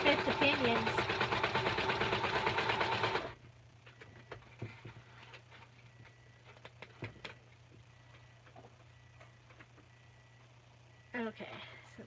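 Sewing machine stitching the binding of a junk journal, a loud steady whirring run for about three seconds before stopping, then faint clicks and small handling noises, with a brief soft sound near the end.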